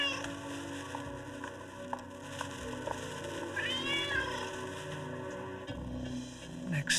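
A cartoon cat meows in an animated action series, a short rising call heard under a busy soundtrack of music and effects.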